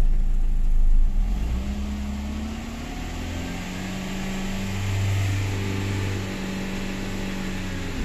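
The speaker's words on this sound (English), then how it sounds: "Here I have to increase the RPMs even more, between 2500 and 3000," A car engine held at raised revs around 2500 to 3000 RPM during a battery charging-system test, a steady mid-pitched drone that climbs slightly and holds, close by with no talk.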